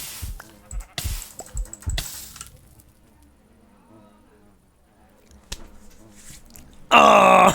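Sheep bleat in the video game Poetica: a few short groaning bleats early on and a loud, sustained bleat at the end, with quiet sounds between.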